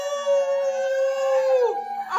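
A voice imitates a wolf's howl in one long, sustained, gently wavering tone that slides downward at the end, close and fairly loud.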